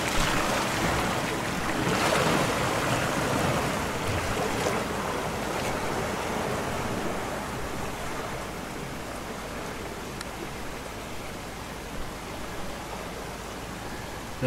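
A 4WD on mud terrain tyres drives into the water of Yarrabulla Creek on a mountain bush track, producing a loud, continuous rush of splashing water that gradually eases, with no talk.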